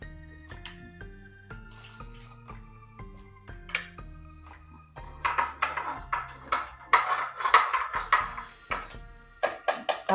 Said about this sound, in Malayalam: ഈ ചൂടായ എണ്ണയിലോട്ട് ഒരു ടീസ്പൂൺ കടുക് ഇട്ട് കൊടുത്ത്